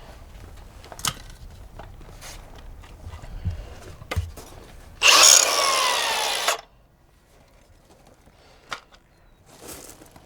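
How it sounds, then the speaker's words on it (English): A burst of power grinding on metal, loud and steady for about a second and a half, cleans a ground ring joint before thermite welding, with quieter knocks and handling noises around it. "So I'm going to have to grind a little bit more."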